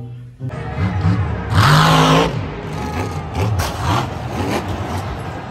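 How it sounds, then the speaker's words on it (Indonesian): A toy monster truck gives off a loud, close engine-revving sound that climbs and falls in pitch several times, peaking in one strong rev burst before settling into a wavering drone. "Wow, lihat kawan, truk monster."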